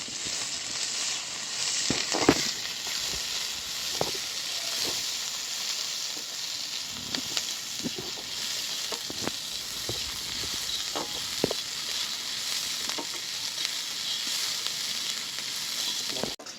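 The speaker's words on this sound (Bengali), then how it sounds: "পেঁয়াজ আমার সব ভাজা হয়ে গেছে" Two coarsely chopped onions frying in oil with black cumin for an okra dish, a constant loud sizzle broken by occasional spatula stirs and scrapes.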